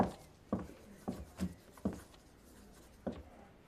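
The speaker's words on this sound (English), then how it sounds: "I thought I asked for silence whilst you write your letters." Pens writing letters on paper in a quiet schoolroom, faint scratching broken by several sharp taps and strokes spaced irregularly, with no talking.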